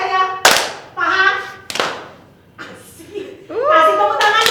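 Children's rhythmic clapping and patting game at a Sunday school, with sharp, distinct hand claps and slaps coming in a steady beat between lively sung and spoken words from an adult leader, close and fairly loud.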